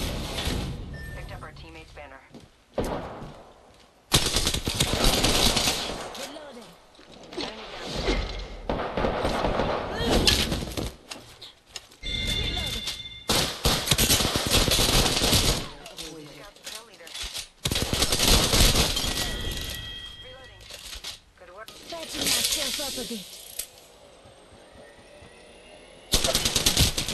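Incoming gunfire in the battle royale game Apex Legends, bursts of automatic shots in loud clusters separated by brief pauses, with a player talking between them.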